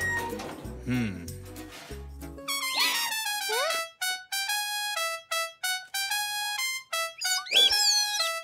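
A cartoon grandfather character vocally imitating an elephant's trumpeting call, a loud, rising, brassy voice with wavering pitch following a few lower grunting sounds, broken into short bursts.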